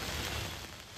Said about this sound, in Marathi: पुणे शहरामध्ये मुसळधार पाऊस होतोय